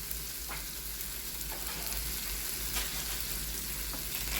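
A haleem mixture sizzles and bubbles steadily in a pan, with faint scraping of a spoon stirring it at intervals and no talking.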